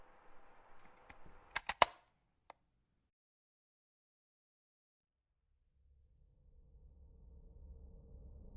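Gunshot sound effects in a narrated horror story, a quick cluster of sharp cracks followed by a single isolated shot, then silence and a low rumbling drone rising afterward.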